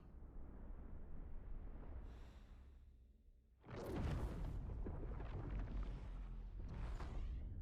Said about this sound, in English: The old explosion.